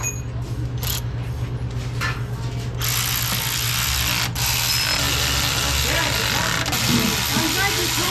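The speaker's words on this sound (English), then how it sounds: "Here's the ratchet wrench that you find in 916" Ratchet wrench fitted with an extension, clicking steadily as it turns a fastener on a race car under rebuild in a shop, with a steady mechanical hum behind the repeated ratcheting.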